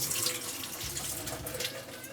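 Water poured off boiled potato cubes in a kitchen, a continuous gushing, splashing flow into a sink, moderately faint and steady throughout with no voices.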